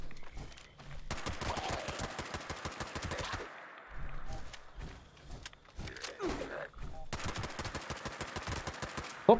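Rapid gunfire in Fallout 76, with long automatic bursts of sharp, evenly spaced shots broken by brief pauses and a few scattered single reports, loud and close throughout.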